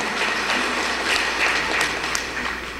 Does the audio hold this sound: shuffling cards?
no